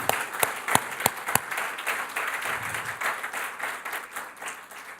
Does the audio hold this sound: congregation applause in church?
yes